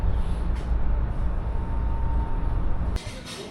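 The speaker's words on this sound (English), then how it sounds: "The train is quite long, but very comfy." A steady low rumble of a moving train interior on the way to an airport for a London flight, continuous wheel and cabin noise that drops abruptly near the end.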